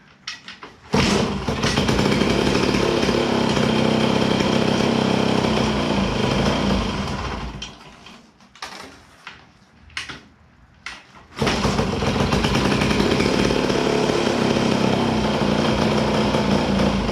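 Small engine cranks and starts with the choke on, running loud and buzzing, sputtering and nearly stalling midway before roaring back to a steady idle.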